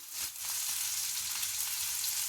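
Onions frying in a pan give off a steady, close sizzle that hisses continuously and evenly from start to finish, with no voices over it.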